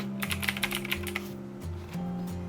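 Keys clatter on a computer keyboard while text is entered in Autodesk Inventor sketch software, a quick run of light clicks followed by a pause and a low steady background hum.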